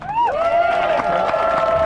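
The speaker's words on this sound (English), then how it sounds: "We have to have a round of applause for the organizers" A rally crowd in Margate, Kent cheers and applauds the organizers, a short burst of clapping and whoops with a rising shout, fairly close and loud.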